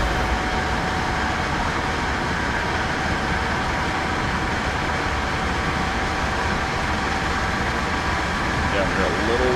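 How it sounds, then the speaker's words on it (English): A train rolls past in Train Sim World 6 as a steady, loud rumble with rail clatter that runs through the whole stretch, while someone talks over it. "as another train's going by"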